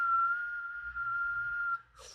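A voice imitating a loud, steady whistle heard from JBL noise-cancelling earbuds, a single sustained clear tone held for nearly two seconds before breaking off abruptly.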